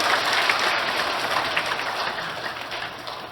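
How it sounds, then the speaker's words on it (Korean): Congregation applauding together during Sunday Mass in a church, a dense, steady wash of many hands clapping at once, fairly loud and continuous throughout, with no speech over it. "감사의 박수 다 같이 부탁드리겠습니다."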